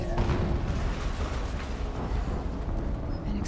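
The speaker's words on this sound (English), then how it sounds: "An explosion." Explosion in the video game Horizon, a dense, rumbling low roar that fills the whole stretch at moderate level without a distinct onset, as if a blast is already under way, with no talk.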